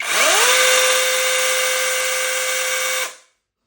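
Grand cordless battery chainsaw (АПЦ-20А, 12-inch bar) spinning up and running steadily with an even high-pitched electric whine for about three seconds, then cutting off and winding down to silence.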